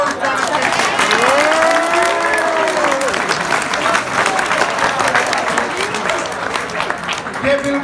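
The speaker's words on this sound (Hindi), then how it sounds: "ताली बजाओ।" A school audience at a Saint Anslam School show breaks into dense, sustained applause that stays loud throughout, with children's voices calling out over the clapping.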